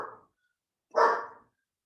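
A pet dog barks twice indoors, a short bark followed after a pause by a louder, fuller one, heard fairly close with no other sound between.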